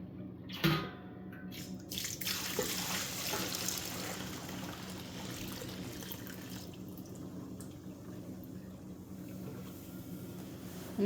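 Fresh milk poured through a strainer after evening milking, a steady liquid trickle and drip that runs continuously at close range after a brief louder splash at the start, with no talking.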